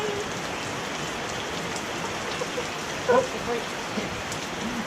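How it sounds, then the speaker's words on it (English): Heavy monsoon rain in Thailand pours steadily in a dense, hissing wash, with a faint voice briefly rising over the downpour. "that's a lot of rain"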